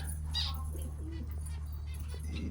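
Finches in a mini zoo aviary give a few faint, brief chirps over a steady low mechanical hum, with a soft cooing bird sound also present.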